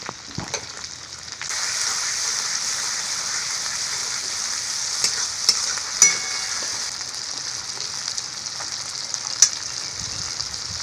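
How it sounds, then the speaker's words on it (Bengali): Tomato paste frying in oil on top of fried onion-garlic paste, a dense, even hiss close by that continues for about ten seconds, with a few small clicks of a spoon and no talk. "এবার টমেটো বাটাটা দিয়ে দেব।"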